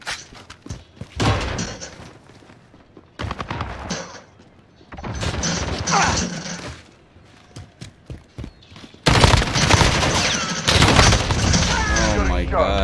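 Gunfire in a Call of Duty Domination match, bursts of rapid shots in several clusters separated by brief gaps, loud and close, with a voice speaking between them.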